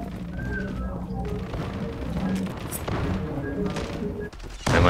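Gunfire in the online shooter Zula, a busy mix of shots, thuds and game effects at moderate level through the clip, with a sharp louder burst at the very end.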